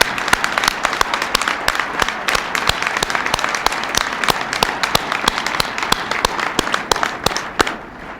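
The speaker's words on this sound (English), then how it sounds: "Please join me in applauding our good work." Guests at the White House Correspondents' Dinner applaud in a loud, close burst, with individual sharp claps standing out over the dense patter before it tapers off.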